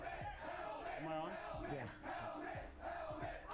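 A large crowd roars and cheers continuously at Pittsburgh Steelers training camp, a dense wash of many voices with rising shouts, heard from within the stands.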